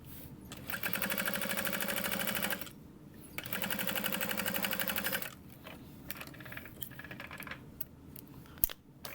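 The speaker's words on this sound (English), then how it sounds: "So I'm just gonna top stitch this on." A sewing machine top stitching a fabric sunglasses case runs in two steady bursts of rapid, even needle chatter with a pause between, close and loud, then fainter handling clicks and rustles afterward; no talking.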